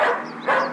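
Cartoon dog giving two short, quick yapping barks, close and clear, with nothing else heard.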